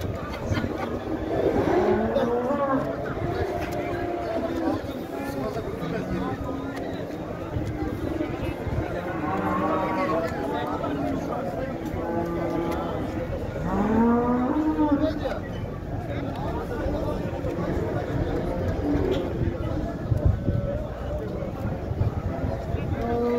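Cattle and calves moo in a crowded livestock market, repeated lowing calls rising over a dense din of voices and people talking throughout.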